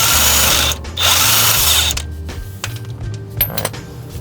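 A power tool, likely an impact driver or drill, loosens the strut bolt on a Toyota Supra during a lowering spring install, running loud and steady in two bursts, then giving way to quieter clicks and clanks of handling.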